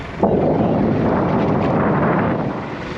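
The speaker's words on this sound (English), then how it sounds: "It's a little bit windy today," Wind roars steadily across the microphone on a dive boat at sea, a loud, continuous buffeting rush with no voices.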